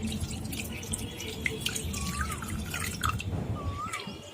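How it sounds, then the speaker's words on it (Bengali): Water dribbles and drips into a bowl of washed lentils being soaked for dal chanachur, a steady close trickle with small splashy plinks and no talking. "এখন আমি এর মধ্যে আরো কিছুটা জল দিয়ে দিচ্ছি।"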